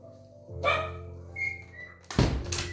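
A puppy gives a few yips and barks over a low steady hum, ending with a loud close thud and rustle.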